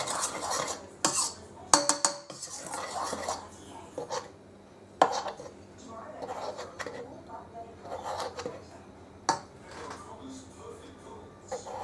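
Pizza dough ingredients get mixed in a bowl, with irregular scraping, stirring and clinks of a utensil against the bowl, plus several sharper knocks, while a person talks intermittently nearby.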